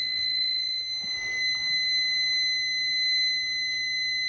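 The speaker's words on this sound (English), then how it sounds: "now our smoke detector is in alarm" A smoke detector connected to an alarm panel sounds a steady, piercing electronic alarm tone continuously, loud and unbroken, with faint shuffling noises beneath it.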